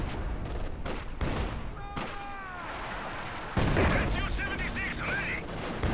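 Gunfire and an incendiary barrage in Company of Heroes 2 sound as repeated sharp shots and thumping bursts, partly under a commentator's voice, with a louder rush of fire toward the end.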